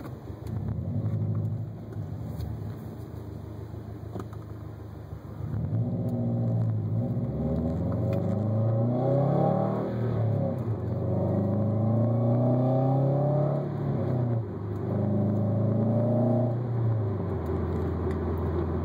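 From inside a closed 2006 Subaru WRX with an aftermarket M2 exhaust, the engine's muffled exhaust drones and climbs through rising revs, a deep steady rumble without speech.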